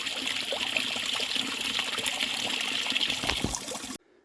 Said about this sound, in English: Good water source here.